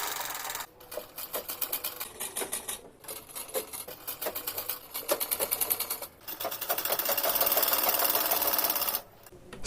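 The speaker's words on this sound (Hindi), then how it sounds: "दोनों पार्ट को कुछ इस तरह एक साथ मिलाते हुए स्टिच कर लें।" A sewing machine stitches plazo suit fabric pieces together in rapid mechanical bursts, close and clear, broken by brief stops between runs and ending in a longer continuous stretch.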